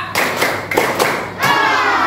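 Classroom pupils clap together in a counting game, a few loud group claps and thumps in quick succession, with a brief pause and then a dense burst of clapping.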